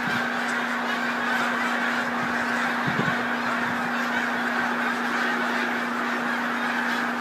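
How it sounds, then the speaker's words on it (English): A flock of snow geese honks directly overhead, a dense continuous chorus of overlapping calls over a steady hum, no voices. "Again, these are snow geese,"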